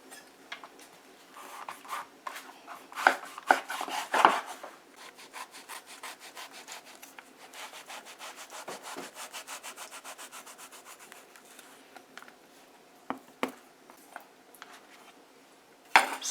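A knife saws through a breadfruit, cutting it into pieces: quiet rasping strokes against firm flesh, irregular and close, with a few sharper clicks of the blade and no talking.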